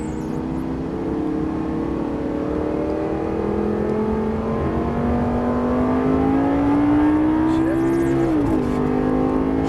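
A Lamborghini Gallardo Superleggera LP570-4 accelerates hard on a racetrack, its engine note climbing steadily and loudly for nearly ten seconds before a brief dip as it shifts, then continuing to roar up close.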